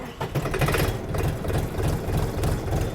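A DTZ 5244HPX mini tractor's engine runs with a loud, rapid knocking beat, a rough diesel-like chug pulsing evenly throughout with no talk over it.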